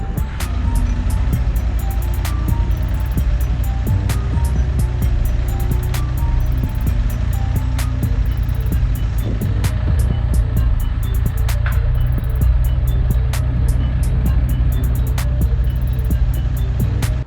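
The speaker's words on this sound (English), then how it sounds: "So I'm gonna grab the skid steer and lift this thing up and then just pull out peacefully." A skid steer engine runs in a steady, loud drone while it lifts a tow truck, with sharp clicks and ticks recurring over the constant hum.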